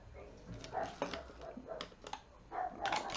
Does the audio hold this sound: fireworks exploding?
no